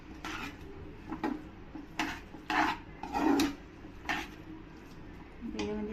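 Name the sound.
mixing broccoli and capsicum in a pan for white pasta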